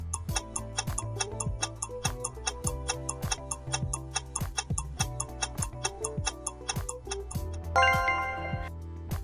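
Countdown timer ticking at an even clock-like pace, crisp repeated ticks over a soft steady musical bed, closing with a bright chime-like flourish just before the end; no voices.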